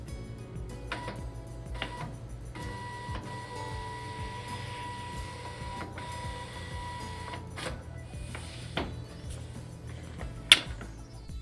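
A Zebra ZT411/ZT421 label printer runs auto calibration with intermittent mechanical whirs, soft ticks and clicks in short bursts, and a sharp click near the end, all fairly quiet and close with no voices.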